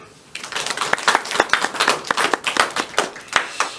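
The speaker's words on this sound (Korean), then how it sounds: "우리 박수 한번 칩시다" A church congregation clapping hands together at a service, a quick run of sharp, fairly loud claps in an uneven rhythm that starts after a brief pause and continues to the end.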